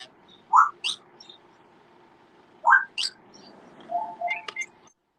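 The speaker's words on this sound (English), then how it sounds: "The birds are very chatty today." Sparse bird chirps and short whistled calls, a few spaced bursts over near silence, fairly close and clear, with no talking.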